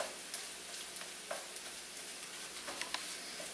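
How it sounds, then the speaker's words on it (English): An egg fries in a hot pan with a steady, soft sizzle and a few faint crackles and pops, close and alone with no voices. "Because we want the egg to be nice and fried."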